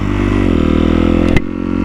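A sportbike engine holds a loud, close, steady rev, dips briefly with a sharp clack near the end, then settles back into a lower idle-like drone.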